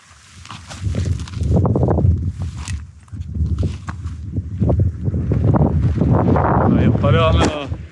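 Strong wind buffets the microphone on an open hilltop fell in the Yorkshire Dales, a loud continuous roar with gusts. A voice talks under it.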